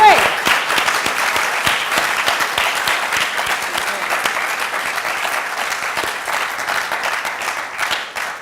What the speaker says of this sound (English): Can we just give another round of applause to all our academics, our exhibitors, our speakers?